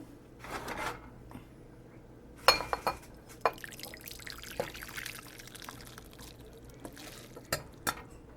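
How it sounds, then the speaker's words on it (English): Cup Noodles Intensos Camaron Fuego being poured into a bowl at home: scattered soft splashes, drips and clinks of liquid and noodles landing, quiet and close, with no talking. "pouring the noodles."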